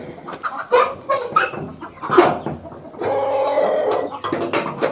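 Chickens cluck and squawk in a village yard as they wait to be fed grain, a busy flock close by with overlapping calls, some longer and louder than others.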